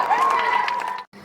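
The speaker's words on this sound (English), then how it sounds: "Everyone, I want to hear a round of applause as if it's a rock concert." Audience at a school elocution showcase claps and cheers loudly after a call for rock-concert applause, with a high shout riding over the clapping, then it cuts off abruptly near the end.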